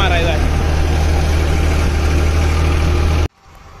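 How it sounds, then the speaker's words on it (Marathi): A tractor engine runs loud and close in a sugarcane field during cane harvesting, a steady low rumbling drone that cuts off abruptly near the end. "तो दुसरा ट्रॅक्टर चालला"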